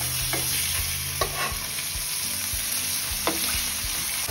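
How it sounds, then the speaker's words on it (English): Chicken thighs brown in a little olive oil in a hot pan, giving a bright, steady sizzle close by, broken by a few soft clicks and knocks. "And we're just gonna brown these thighs. Ooh, hot pan."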